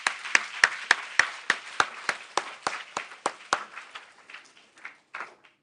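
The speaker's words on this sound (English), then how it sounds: "a warm round of applause." Sharp, distinct claps land in a steady rhythm at a Duke-NUS White Coat ceremony, coming from a few hands close by, then loosening and thinning into scattered, fading claps.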